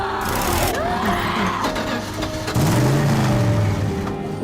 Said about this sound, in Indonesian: Mereka pun akhirnya berhasil menyalakan mobil itu dengan menyambungkan generator listrik